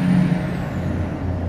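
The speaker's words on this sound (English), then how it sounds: "Dang trucks, making noise." Trucks rumble loudly nearby with an air brake hiss and a low engine drone that runs steadily through the short stretch, with no voices.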